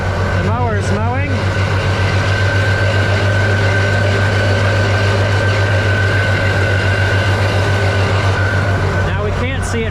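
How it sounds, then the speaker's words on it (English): Tractor-driven hay mower with a Pottinger conditioner running in a hayfield, a loud steady low engine drone with a constant hum, and a voice talking over it. "The mower is mowing."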